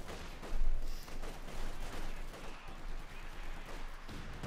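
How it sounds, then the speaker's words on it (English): Artillery fire in the Company of Heroes 2 strategy game: dense, rolling bursts of distant booms and gunfire overlapping one another, a louder blast early on and then a continuous rumbling barrage with no voices over it. "Artillery fire there"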